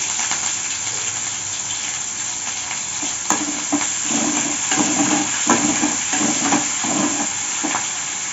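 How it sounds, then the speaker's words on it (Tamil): Onion and curry leaves fry in a hot pan for a brinjal and double beans dish, a steady close sizzle and hiss broken by rhythmic scraping stirs, with no talking. "இப்போ வெங்காயம் சேர்த்துக்கலாம். இப்போ கருவேப்பிலை சேர்க்குறேன்."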